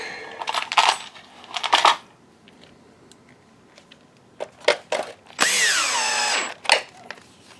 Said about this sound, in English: Didn't realize I had the drill set up so high.